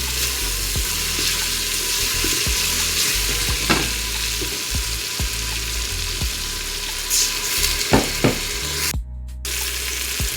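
Oil and spices fry steadily in a pot of beef bone broth, a continuous broad sizzle with scattered stirring clicks and taps running throughout, close and fairly loud, with no talking.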